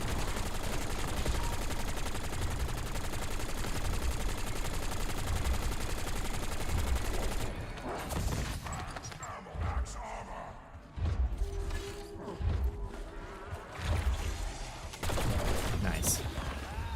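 Sustained light-machine-gun fire rips through a zombies match in Black Ops 7, loud and continuous for several seconds, then breaks into shorter bursts and thuds with gaps between them.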